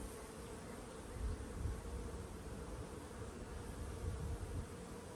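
Honeybees buzz steadily at an open hive in an apiary, a dense continuous hum with a faint swell now and then, heard alone with no talking.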